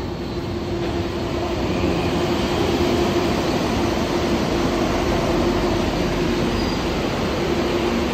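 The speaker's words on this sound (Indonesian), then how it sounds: "Akhirnya datang juga monorail yang ditunggu" KL Monorail train arriving at a station in Kuala Lumpur, a steady loud rolling rumble with a sustained mechanical hum throughout and no voices.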